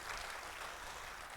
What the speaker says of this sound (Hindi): एक बार ताली मारिए साहब